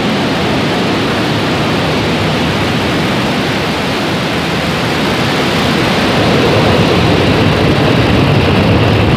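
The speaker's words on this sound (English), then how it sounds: "ignition, and liftoff" Türksat 6A rocket roaring at liftoff, a loud, dense broadband rumble that stays constant and even swells slightly toward the end, with no voices over it.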